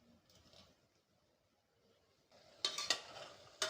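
Mushroom masala is stirred into biryani gravy in a pot for a Dindigul thalappakatti-style mushroom biryani. A quiet stretch gives way to a few close metallic scrapes and clinks of the spoon near the end.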